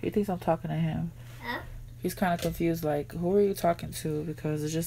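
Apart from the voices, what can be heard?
No distinct noise like a dog, phone or traffic.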